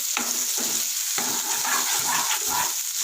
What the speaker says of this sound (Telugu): ఇంకా కొద్దిగా ఫ్రై అయిన తర్వాత మనం టమాటా వేసుకోవాలి ఇంకా కొంచెం ఫ్రై కావాలి